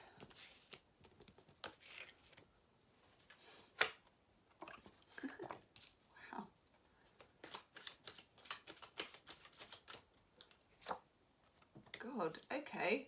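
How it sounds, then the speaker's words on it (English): Tarot cards shuffled and drawn by hand at close range, giving a string of crisp riffling flicks and soft slaps in uneven bursts, with a quiet voice now and then between them. "I'm going to draw a few more cards."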